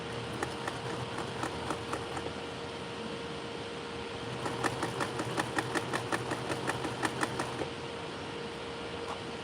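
A sewing machine stitches a peace sign patch onto a denim jacket, with a steady motor hum and a quick run of rapid needle clatter in the middle, close and fairly quiet.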